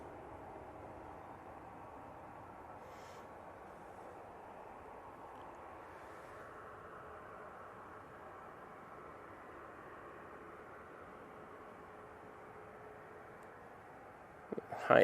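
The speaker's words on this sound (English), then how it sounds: "Next out, we've got the Ryanair off to Rabat" Ryanair jet taking off from Manchester Airport for Rabat, a faint, distant engine hum holding steady throughout, with a sharp louder burst at the very end.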